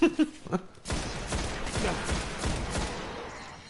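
Gunfire from the video game Destiny: dense, rapid bursts of shots that start abruptly after a brief quiet moment and keep rattling at a steady level.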